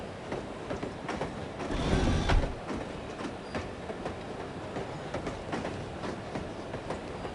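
A train ride in the video game No One Lives Forever: a steady rumble with rhythmic clickety-clack of the wheels over the rails, and a louder surge partway through.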